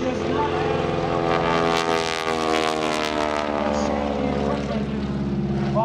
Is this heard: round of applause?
no